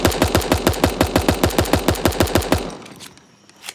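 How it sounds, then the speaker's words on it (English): Rapid SMG fire in the cartoon battle royale game Super Animal Royale: one sustained burst of evenly spaced, punchy shots for about two and a half seconds, then quieter game ambience with a few faint clicks. "Consume the SMG."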